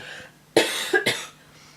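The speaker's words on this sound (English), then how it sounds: "Apologies for the cough" A couple of sharp, close coughs in quick succession, loud against a quiet background.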